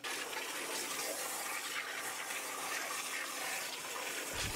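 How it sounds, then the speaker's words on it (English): An industrial water jet cutting machine slices 2D parts, giving a loud, steady, rushing hiss that runs unbroken throughout with no voices. "We use water jets to cut simple and complex 2D parts from almost any material."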